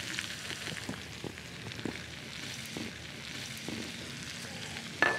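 Green onions with ginger sizzle in a hot frying pan, a soft continuous hiss and crackle with a few light taps and clinks, close by, with no one talking.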